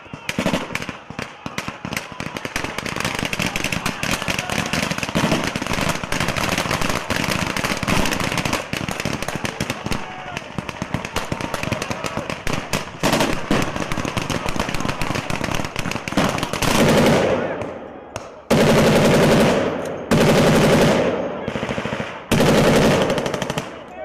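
Dense machine-gun fire rattles in long continuous bursts during a US military exercise at sea in the Pacific, loud and close, breaking into shorter separate bursts near the end while shouted voices come through.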